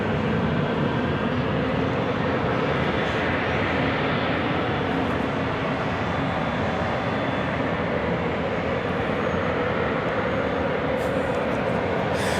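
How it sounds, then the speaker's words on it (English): A Boeing 737-900ER airliner arriving at LAX on a flight from SFO: a loud, steady roar of jet engines that stays at about the same level throughout. "Flight 1312 coming in from SFO and a 737-900ER"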